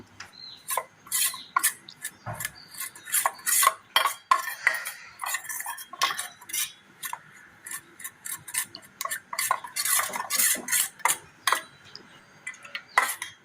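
A spoon stirs powder into a carrot and milk mixture in a bowl, quick rhythmic clinking and scraping strokes close by, loud and uneven, with no voices.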